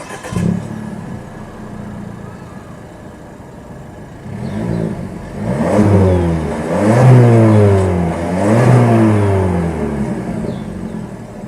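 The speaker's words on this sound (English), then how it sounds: "Let's just do a quick rev test outside." A 2019 Suzuki Swift Sport with a 1.4 litre turbo engine, automatic, idles and is then revved several times outside in rising and falling bursts, fairly close and loud, with no talking.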